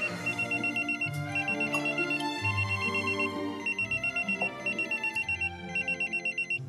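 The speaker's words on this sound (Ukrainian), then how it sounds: "Вибач, донька телефонує." A phone rings with a repeating electronic trill in regular bursts, loud and close, over a soft background of music.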